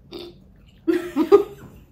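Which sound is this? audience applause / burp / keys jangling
burp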